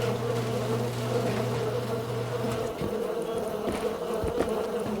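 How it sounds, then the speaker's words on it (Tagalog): A bee buzzes in the survival game Rust, a steady droning hum with a constant pitch that lasts the whole time, close by and moderately loud over faint background game noise. "May bubuyog Sara."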